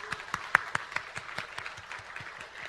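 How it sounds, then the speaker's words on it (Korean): A church congregation at a Korean evangelism revival meeting claps in applause, a brief ragged burst with distinct sharp claps standing out, fairly close and moderately loud. "이때 하나님께 영광의 박수 올려야 됩니다."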